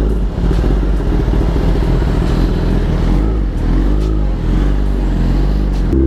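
Kawasaki ZX10R 1000 cc sport motorcycle fitted with an Austin Racing aftermarket exhaust, a loud, steady deep engine drone while riding, with slight rises in pitch and no talk.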